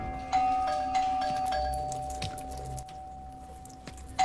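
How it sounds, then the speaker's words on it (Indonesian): A doorbell ringing over and over, a sustained electronic tone with repeated clicks and knocks around it, moderately loud with no speech. "tiba-tiba saja terdengar suara bel yang terus-terusan berbunyi"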